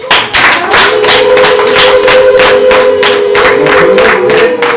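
Steady, loud applause from a crowd, dense rhythmic clapping continuing throughout without pause.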